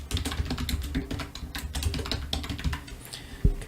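Rapid typing of a short test message on a computer keyboard, close, crisp key clicks in uneven bursts with a heavier thump near the end.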